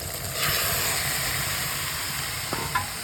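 Chicken pieces fry in spiced oil with a steady, close hiss and sizzle, and a couple of light utensil clinks near the end.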